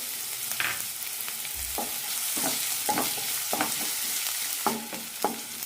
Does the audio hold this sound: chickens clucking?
no